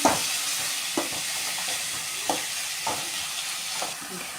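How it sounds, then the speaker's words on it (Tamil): Chopped tomatoes sauté in a pan with a soft steady sizzle, while a utensil scrapes and stirs in occasional spaced strokes nearby. "தக்காளியை போட்டுட்டு தக்காளி வதங்கிறதுக்கு விடணும்."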